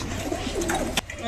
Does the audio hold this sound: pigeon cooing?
yes